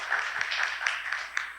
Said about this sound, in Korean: 다시 한번 박수 부탁드리고요